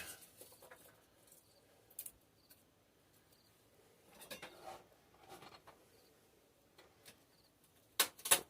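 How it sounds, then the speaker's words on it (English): Garlic being crushed, peeled and chopped with a knife on a board: quiet, scattered taps, knocks and scrapes at close range, with a sharper cluster of hits near the end and no talking. "One thing left to chop up is my garlic."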